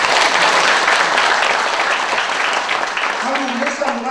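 Enthusiastic audience clapping at a Buddhist-linked history and culture institute's founding ceremony, loud and dense at first then thinning, with a voice speaking over the tail end.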